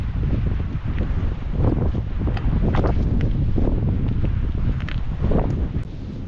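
Steady, loud wind roars across the open Wadden Sea mudflats at Cuxhaven-Duhnen at low tide in spring, buffeting the microphone throughout with small waves lapping underneath.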